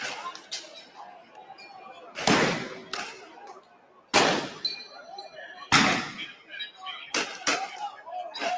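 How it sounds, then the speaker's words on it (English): Sharp booms of fireworks at an outdoor street protest, four strong bangs spaced a couple of seconds apart with smaller pops between, heard from a distance over crowd murmur and voices. "It sound like the fireworks."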